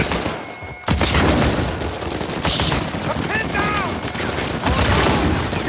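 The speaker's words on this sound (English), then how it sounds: "Guy that's up top in the middle firing at us" Enemy gunfire in Uncharted 4 rattles on in loud, continuous bursts after a brief lull. A few sharp reports stand out, and a voice can be heard in the thick of the fight.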